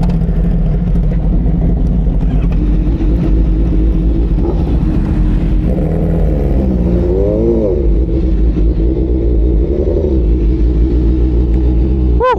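A Honda CBR1000RR sport motorcycle runs downhill on the Marilaque mountain road, its engine a steady close rumble with rising and falling pitch sweeps as the throttle changes, heard continuously with no talking.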